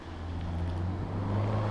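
A car passes along a residential street where a child rides a bike, a steady low engine rumble swelling slightly as it goes by, moderately close and continuous.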